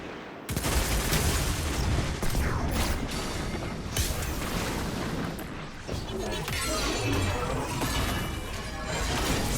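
Chaotic explosion in the video game Destiny 2, a loud, dense burst of crashing, shattering blasts and gunfire-like bangs that starts abruptly and keeps roaring for several seconds, with game effects layered throughout.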